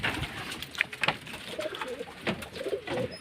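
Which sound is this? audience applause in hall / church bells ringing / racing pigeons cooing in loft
racing pigeons cooing in loft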